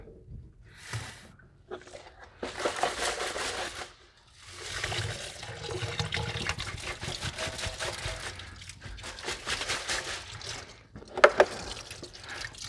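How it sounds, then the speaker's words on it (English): Fresh water pours and splashes into the windscreen washer reservoir of an Aston Martin in uneven bursts, sloshing and gurgling with short pauses between pours, moderately close. "I'm going to put some fresh water in as a rinse."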